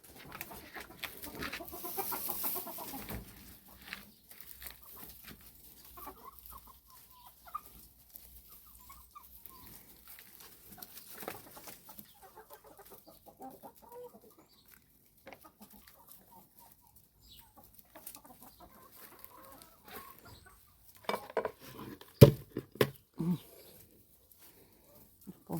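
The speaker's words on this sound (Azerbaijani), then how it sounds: "Bu toyuqla, bu qara toyuqlar məni çox istəyirlər, ən çox" Black hens and young chicks cluck softly in a backyard flock, with scattered calls near and far under quiet talk and a few louder bursts toward the end.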